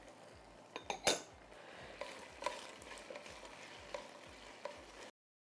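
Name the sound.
onions and dried red chilies sautéed in a pan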